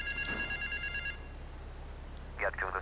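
A payphone in the Grand Theft Auto III video game rings with bright, repeated electronic trills. One burst comes early and a shorter one comes near the end, with quiet game ambience in between.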